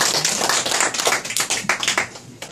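A small audience at a Korean clan association board meeting claps in congratulation. Distinct, uneven hand claps come close and fairly loud, thinning out toward the end.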